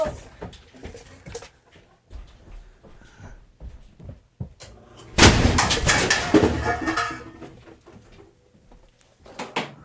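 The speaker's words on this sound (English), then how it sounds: "it literally blew up" A home furnace blows up with a sudden loud blast and a rolling roar that lasts a couple of seconds, preceded and followed by scattered knocks and bumps in a room.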